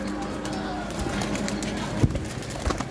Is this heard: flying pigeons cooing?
yes